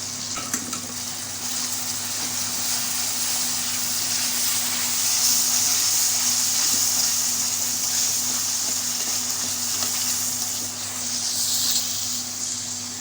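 Garlic ginger paste sizzles and fries in a pan, a loud, continuous hiss with a light bubbling texture that holds steady and dips only briefly near the end.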